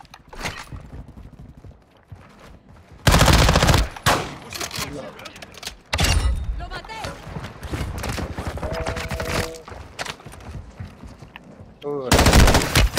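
Bursts of automatic gunfire in the Warzone video game, loud rapid volleys in several stretches, with players talking over the shooting between bursts.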